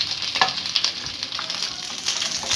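Whole green chillies frying in hot oil for mirchi ka salan, a dense, bright crackling sizzle with small pops, close and continuous.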